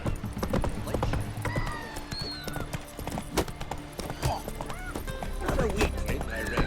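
Hooves of a horse clip-clopping at a gallop in The Witcher 3 video game, a steady rhythmic beat with a whinny, game music and other effects mixed in.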